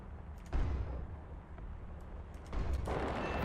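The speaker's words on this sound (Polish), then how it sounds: "Pierwszy strzał jeszcze zjebałem, ale drugi już poprawiłem wystarczająco" Two heavy cannon shots from an Hs 129 ground-attack aircraft in a video game, about two seconds apart, each a loud boom over a constant engine drone.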